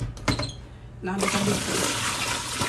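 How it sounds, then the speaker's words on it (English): Hot water is poured out of a canning pot after a day of canning Brussels sprouts and jalapeños. A brief spoken phrase comes first, then a loud, steady rushing pour runs to the end. "I'm going to pour this water out because I think I'm done canning for the day"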